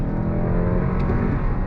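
A 2023 Toyota Crown sedan accelerating under throttle, a steady loud engine and drivetrain drone heard close from inside the car, with no talking.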